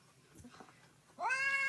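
A cat lets out a loud, rising meow near the end, after a stretch of quieter shuffling and background noise.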